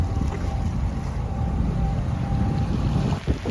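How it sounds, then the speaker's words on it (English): Strong wind roars steadily across a sailboat at sea during a squall, buffeting the microphone with a continuous broadband rush and low rumble that dips briefly near the end. "so we might as well use the wind"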